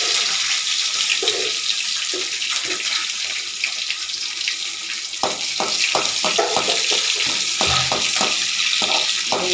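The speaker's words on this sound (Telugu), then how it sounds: "గ్రీన్ చిల్లీ వేసుకుని బాగా ఎలా ఫ్రై చేసుకోవాలి చూడండి" Green chillies fry in a pan for a Telugu-style tomato chilli chutney, giving a steady hiss broken by loud crackling and sputtering bursts in the second half, close and continuous with no voices.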